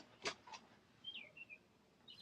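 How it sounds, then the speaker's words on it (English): Birds chirping outside an open studio window, a few short, faint, thin calls spread across the moment, with a soft click near the start and quiet room tone between. "You hear birds chirping?"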